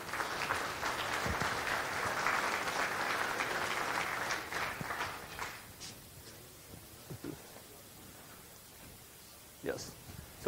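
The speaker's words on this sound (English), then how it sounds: "a round of applause for IPC in 1, 2, 3" Audience applause at a conference talk, a dense clatter of clapping for several seconds that thins out and fades, leaving scattered claps and faint room noise.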